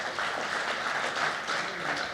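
An audience in Johannesburg gives steady, sustained applause at the announcement of a new human ancestor species, a dense wash of clapping heard from a moderate distance.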